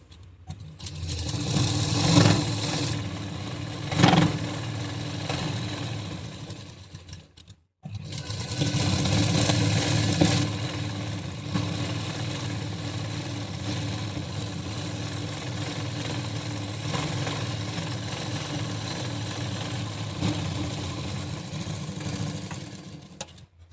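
A sewing machine runs in long continuous bursts while double-stitching the seam of an A-line gown, with a steady whirring drone, one short pause partway through, then a long unbroken run.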